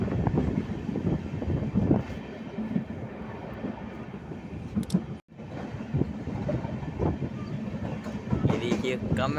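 The Tanakpur to Dehradun weekly express rolls along a curve, with rhythmic wheel clatter and rumbling carriages heard from close by, wind buffeting the microphone, and a brief dropout midway.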